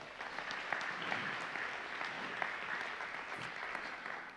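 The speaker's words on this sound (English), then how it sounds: "Let's give him a round of applause." An audience applauding a speaker coming on stage, steady dense clapping that stays even and sustained from start to finish, moderately loud with no voices over it.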